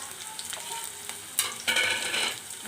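Onions frying in oil in a pan for egg pulusu, a steady sizzle with stirring scrapes and a louder burst of frying midway, close and without talk.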